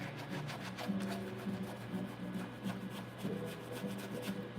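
A makeup brush rubbed over a surface to work off leftover makeup, giving a soft, steady scratchy rasp with faint repeated strokes, quiet and close with no talk.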